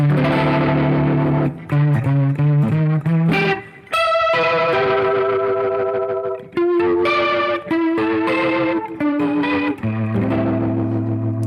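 Electric guitar plays a sequence of sustained distorted notes and chords with a swirling, pulsing rotary tremolo shimmer, loud and alone.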